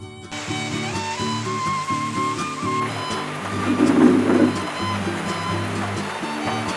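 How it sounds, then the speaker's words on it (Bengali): Heavy rain pouring down outdoors, a dense continuous rushing wash like running water that swells in the middle, with steady tonal hums and faint background sounds underneath. "সকালেও গেল প্রচণ্ড বৃষ্টি এখন আবার শুরু হয়ে গেছে"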